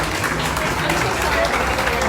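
A small crowd applauds at the exit of Mickey and Minnie's Runaway Railway at Hollywood Studios on grand opening day, with dense steady clapping mixed with voices throughout.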